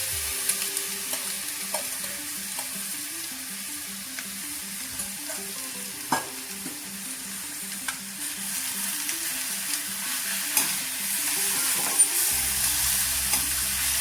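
Finely ground carrot for carrot halwa fries in a pan and is stirred with a steady, close sizzle and regular rhythmic scraping strokes throughout, with no voices.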